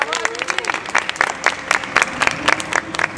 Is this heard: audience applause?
yes